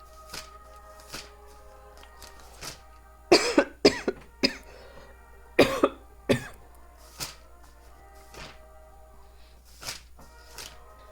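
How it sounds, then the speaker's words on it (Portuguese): Repeated coughing fits, a few harsh coughs clustered together, then scattered single coughs, close and fairly loud in a quiet room. "Perdão, irmãos, que a tosse tá bem forte"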